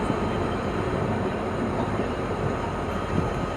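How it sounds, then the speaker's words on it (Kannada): The Rani Chennamma Express rolls into Arsikere Junction with a steady, loud rumble of wheels and carriages, a continuous close roar with no talk. "ನಮ್ಮ ರಾಣಿ ಚೆನ್ನಮ್ಮ ಈಗ ಎಂಟ್ರಿ ಆಗ್ತೈತೆ ಅರಸೀಕೆರೆ ಜಂಕ್ಷನ್ಗೆ"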